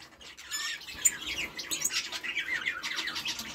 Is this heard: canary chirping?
yes